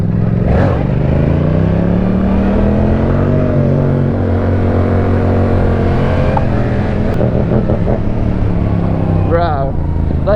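A 2022 Yamaha R7 sport bike engine runs steadily throughout, its pitch rising and falling with the revs, while people talk loudly over it nearby.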